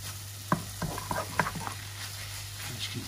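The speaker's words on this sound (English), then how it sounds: "that sauce just starting to caramelize on the bottom of the wok" Vegan yaki soba sauce sizzles and begins to caramelize on the bottom of a hot wok, a soft steady frying hiss with a few faint stirring clicks and no voices.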